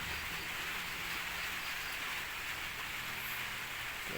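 Rain falls steadily outside a flooded goat pen, a soft, even hiss that stays constant throughout, faint and with no voices.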